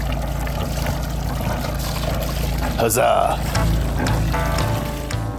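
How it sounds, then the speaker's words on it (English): Sailboat engine running after a fouled water pump was repaired: a steady low idle drone with splashing, trickling cooling water throughout, and a brief cheerful shout near the start. "So I'm gonna turn on the engine"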